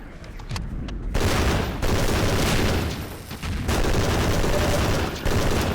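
Rapid automatic gunfire from a weapon in the video game Coterminus, dense loud bursts of shots that pause briefly and resume, close and continuous, no talking.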